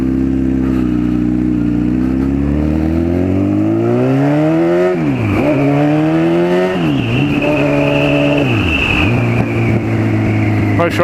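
A Honda Fireblade motorcycle engine idles loudly up close, then revs repeatedly as gears are shifted, each blip rising and dropping sharply in a steady, stepped pattern.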